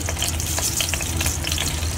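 Mustard seeds sizzle and crackle in hot oil over a low gas flame for a creamy sweet corn curry, making a dense, close, continuous frying hiss with rapid popping.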